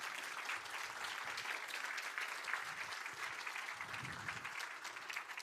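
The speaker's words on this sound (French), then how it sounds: "si on peut vous applaudir, un grand bravo et un grand merci" An audience at a conference on climate risk and insurance applauds steadily, a soft, continuous patter of many hands at moderate distance, with a low voice murmuring briefly underneath.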